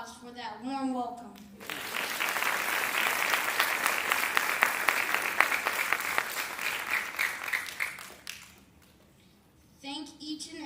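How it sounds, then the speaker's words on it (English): Warm applause from an audience at a ceremony, a dense burst of clapping lasting several seconds before tapering off, with a voice speaking before and after. "And another applause for that warm welcome."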